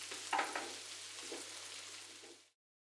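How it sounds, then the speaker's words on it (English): Ham and onion sizzle steadily in a hot pan, a continuous close frying hiss with a brief stir near the start, then cutting off abruptly. "Let the ham and onion continue cooking for a bit"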